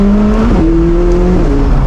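McLaren 765LT supercar engine loud and close, revving then dropping pitch on sharp upshifts in sport powertrain mode with track handling on a mountain road, each shift marked by a quick stepped change in tone.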